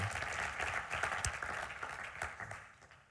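Church congregation applauding together, a steady wash of fairly faint clapping that holds for a few seconds before thinning out.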